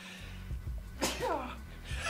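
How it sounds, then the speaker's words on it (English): One sharp human sneeze bursts out near the middle, close and fairly loud, followed by a short voiced trailing sound over low background hum. "I'm going to sneeze like 10 times"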